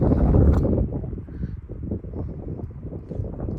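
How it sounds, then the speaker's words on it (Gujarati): Steady cold wind buffets the microphone with a low, rumbling roar, strongest at first and then easing to a gusty whoosh. "હવે અહીંયા ઠંડો પવન લાગે છે"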